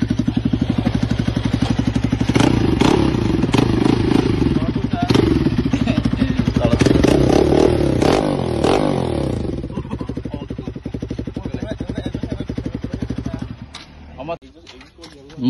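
A motorcycle fitted with a new exhaust idles loudly and backfires in rapid rhythmic popping and crackling bursts for most of the stretch, then the popping fades out toward the end.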